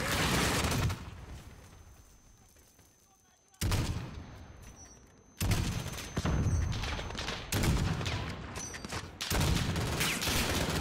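Sniper rifle fire in Call of Duty: Modern Warfare (2019) lands as several loud, heavy single reports spaced about two seconds apart, each ringing out before the next, with a faint voice in the background.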